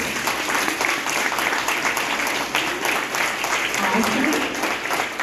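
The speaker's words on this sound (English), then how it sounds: "let's give everybody a big round of applause." Applause from first graders and families at an elementary school awards ceremony, a steady wash of clapping hands with crowd murmur and voices mixed in throughout.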